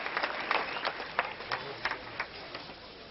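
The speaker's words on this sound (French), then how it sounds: "Le public qui est debout pour l'applaudir." Standing crowd at Roland Garros applauds Pete Sampras after a 1994 third-round match, distant sparse clapping with scattered louder claps, faint and thin over a muffled broadcast background.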